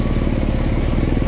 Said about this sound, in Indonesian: di sini terlihat untuk loader sudah hidupkan mesin ya teman-teman, sudah siap-siap untuk bekerja ya